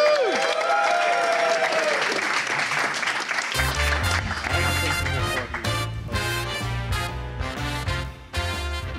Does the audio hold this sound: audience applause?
yes